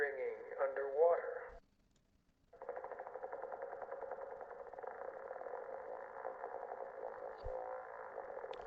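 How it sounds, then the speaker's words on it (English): A failing motorboat propeller from the Kentucky Route Zero game, a warbling mechanical drone that cuts out into near silence, then returns as a steady buzzing whir. "That was a motorboat's propeller failing."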